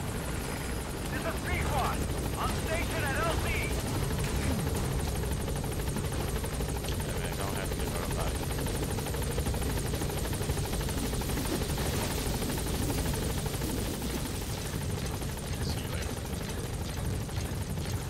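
The Pequod support helicopter from Metal Gear Solid V: The Phantom Pain arrives at a landing zone, its rotor roar loud and continuous throughout, with voices speaking underneath.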